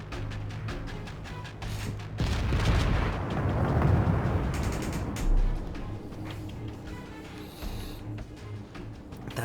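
A warship in World of Warships, an Admiral Hipper, fires a volley of armor-piercing shells, heard as a heavy rumbling boom that swells and rolls, with sharper reports and a later thud over a continuous low engine drone.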